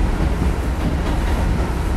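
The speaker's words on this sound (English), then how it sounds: "The train is called the 6 train." An old New York City 6 subway train runs through the Bronx, a loud, steady rumble and roar of wheels and carriage noise filling the whole stretch with no talk.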